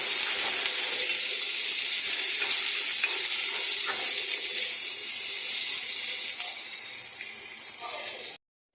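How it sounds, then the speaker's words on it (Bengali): Onions fry in a pan for begun bahari, a loud, even hiss of sizzling oil held close with faint stirring scrapes, stopping abruptly at the end. "এবারে এই পেঁয়াজগুলো ভালো করে ভাজবো।"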